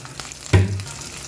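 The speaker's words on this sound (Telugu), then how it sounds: "కొంచెం ఇంగువ వేసుకుందాం." Asafoetida tipped into a pan of hot oil with green chillies: a brief, close burst of sizzling frying flares up once and quickly settles to a low crackle, with no talk.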